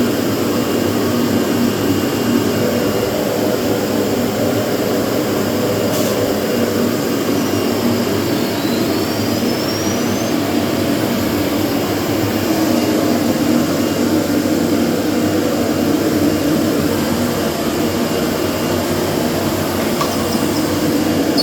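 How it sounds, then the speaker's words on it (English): A vacuum pump on a Figtek CNC router runs with a steady, loud, broadband whooshing drone and a constant whine, unchanging for the whole stretch with no talk over it. "let's turn on our vacuum pump"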